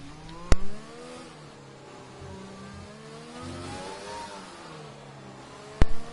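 An F1 race car on an out lap in a Monaco Grand Prix racing video game, its engine rising and falling through gear changes at a steady mid-level, with loud sharp clicks at the start and end and no talk.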